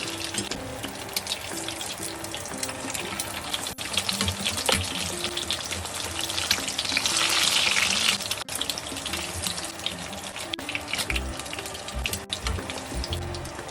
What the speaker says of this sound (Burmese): ကျွန်တော်ကြက်ဥကိုအရင်ကြော်လိုက်ပါမယ်နော်